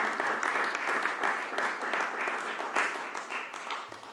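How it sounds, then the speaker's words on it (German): A crowd applauds steadily, a dense patter of many hands clapping at moderate volume from some distance, with no speech over it. "es hat wahrlich einen großen Applaus verdient"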